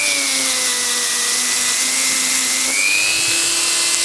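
Mächtz MMG-280 rotary engraver spinning at high speed, a continuous high-pitched whine with a slight pitch rise near the end, running alone without talk.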